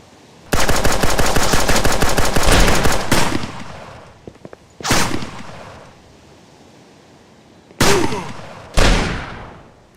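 Gunfire from the PvP video game Lifeless: a long rapid automatic burst lasting a few seconds, then a lone shot, and two more loud separate shots later, each cracking sharply against a quiet background.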